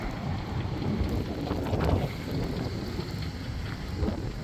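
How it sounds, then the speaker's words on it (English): Strong blizzard wind roars during heavy snowfall in Williston, North Dakota, a loud continuous rumbling gust with buffeting on the microphone, steady throughout and with no speech over it. "look at this wind. Supposed to get 55-mile-an-hour winds, 6 to 12 inches of snow by tomorrow."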